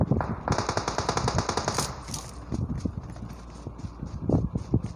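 Rapid bursts of automatic gunfire in PUBG, sharp repeated cracks in quick volleys with scattered single shots after, fairly close and loud.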